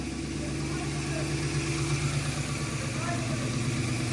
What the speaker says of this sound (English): I just accidentally bumped the starter and it fired right up